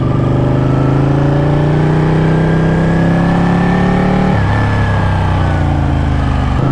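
Ducati 1199 Panigale engine running and revving while warming up, a loud, close, steady buzzing drone that climbs gradually in pitch, then drops sharply to a lower idle near the end.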